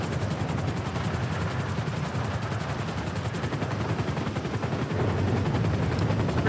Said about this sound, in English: let's just get up in this chopper and let's get to safety